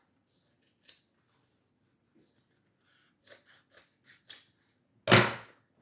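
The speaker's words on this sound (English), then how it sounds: "Cut down the seams so you're opening the shirt up to get as much fabric as you can." Scissors cutting through shirt fabric along the seams: a few faint, scattered snips, then one loud, close, crisp cut near the end, with quiet pauses between.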